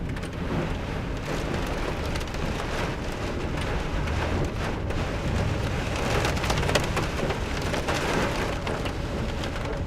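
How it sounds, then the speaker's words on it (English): Heavy rain pours down during a severe storm on a road, a dense, loud, continuous roar of drops drumming on surfaces with no letup and no voices. "I kind of see the rain bands going across the road"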